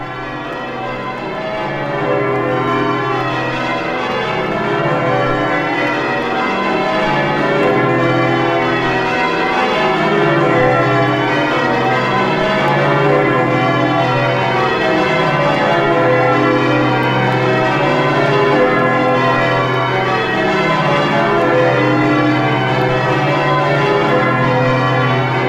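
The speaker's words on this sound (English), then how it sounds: "Aren't them bells lovely? The bells of St Mary Redcliffe Church they are." The bells of St Mary Redcliffe Church in Bristol peal continuously in a dense, overlapping wash of tones, steady and fairly loud throughout with no pauses.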